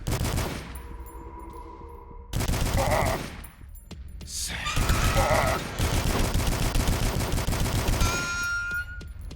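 Assault rifle fire in a survival shooter game, bursts of rapid shots over a dense game soundscape with music and effects, fairly loud and continuous for most of the stretch.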